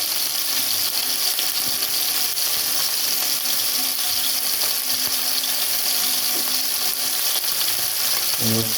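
Meat sears in a skillet, a loud, steady frying sizzle that fills the whole stretch without pause, with a brief clink near the end and no talking.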